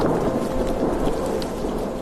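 Steady thunderstorm rain at the start of the rainy season on the Serengeti plains, a dense hiss of rainfall with a low rumble of thunder underneath, constant and fairly close throughout.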